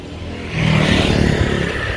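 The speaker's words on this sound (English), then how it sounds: "You don't get all that excessive traffic noise." A vehicle passes on a main street near a hotel in Amnat Charoen, Thailand, a steady engine and tyre rush swelling in mid-distance and staying moderately loud to the end.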